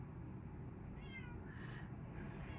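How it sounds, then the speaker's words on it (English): A house cat meowing at a door, a few drawn-out meows heard faintly through a steady low background hum in an indoor room. "He's meowing kind of obnoxiously."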